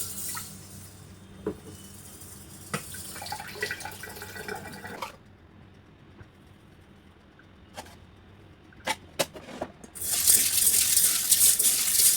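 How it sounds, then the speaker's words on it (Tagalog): Mung beans washed by hand under running tap water in a home kitchen: a steady close stream splashing with sloshing and rubbing, a quieter stretch, then the tap gushing harder near the end, no talking. "bago nyo lutuin yung munggo, dapat hugasan yung maigi. Tulad nito."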